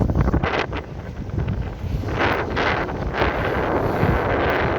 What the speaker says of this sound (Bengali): উত্তাল পদ্মা নদী একদম পদ্মা নদী বাতাস ঢেউ